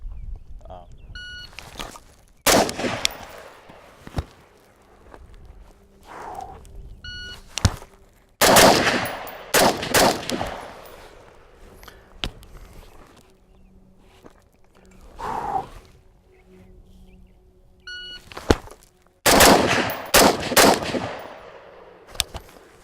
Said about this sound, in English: I'm going to dump a few more mags, maybe just 1 or 2